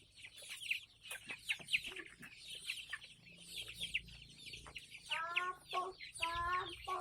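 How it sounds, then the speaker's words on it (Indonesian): Free-range Indonesian village chickens cluck continuously in a busy flock, with overlapping clucks and squawks near and far, a few louder drawn-out calls toward the end, over a low background hum. "Ayam kampung."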